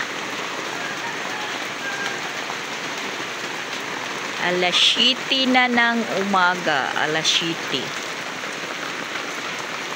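Heavy rain pours in a dense, steady hiss on a house roof and surfaces. A person speaks briefly partway through, over the constant downpour.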